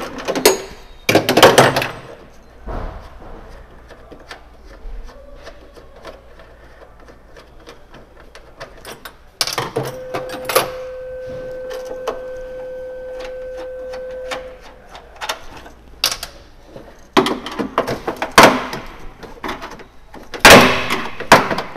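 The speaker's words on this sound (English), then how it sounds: "do you have the ratchet? The 10 millimeter ratchet." A 10 millimeter ratchet clicks in quick bursts while a bracket comes off a Mazda Miata, with metallic tool clatter and a faint steady tone in the middle. The sound is close and intermittent.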